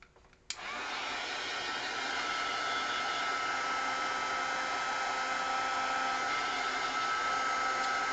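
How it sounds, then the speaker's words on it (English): Heat tool switched on with a click, then a steady, close hiss of blowing hot air over a mixed media tag painted with black gesso and Art Alchemy paints, continuing unbroken. "I'm going to zap this with the heat tool"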